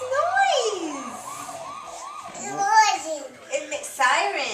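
A toy fire engine's electronic siren wails in a rising and falling pattern, close and fairly loud, while someone talks and babbles over it.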